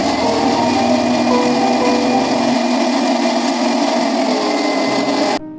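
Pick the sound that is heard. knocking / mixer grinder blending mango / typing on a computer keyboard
mixer grinder blending mango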